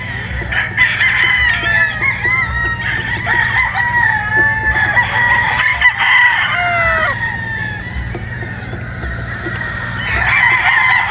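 Many battle stag roosters crow repeatedly over one another, loud and close, with clucking and other fowl noise underneath and a steady low hum throughout.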